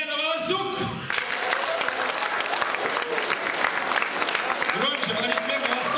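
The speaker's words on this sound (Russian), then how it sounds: "Громче, аплодисменты, вас только много." Audience applause for a contestant at a local beauty pageant, a steady dense clapping that fills the room, with a host's voice and some music heard at the start and near the end.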